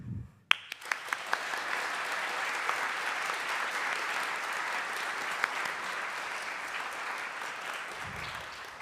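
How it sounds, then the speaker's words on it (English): Sustained applause from an audience, a steady dense clatter of many hands clapping for several seconds before fading out. "Please join me in a round of applause to help welcome our newest members."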